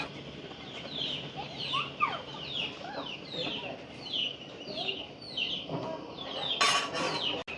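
Free-range country chickens clucking around a rural home, a series of repeated close clucks and short calls spread through the clip, with a brief clatter near the end.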